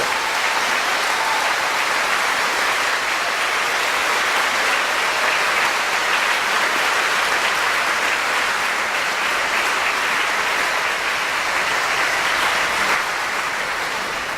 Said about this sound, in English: you can give them a clap also